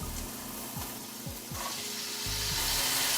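Steady frying sizzle of garlic in a hot pan, continuous and close, with a few soft scraping stirs and the hiss swelling louder toward the end.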